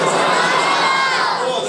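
A large crowd shouts and chants slogans for Siddiq Akbar at a religious gathering, a loud dense roar of many voices that fills the whole moment.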